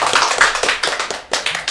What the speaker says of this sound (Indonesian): Oke, tepuk tangan dulu untuk